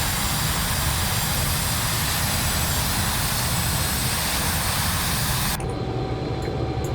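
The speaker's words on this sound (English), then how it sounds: "1 engine still coming to life, as you can hear it spooling" A four-engine aircraft's last engine spools up while the others already run, filling everything with a loud, dense, steady roar and hiss close by; the high whine drops away sharply near the end.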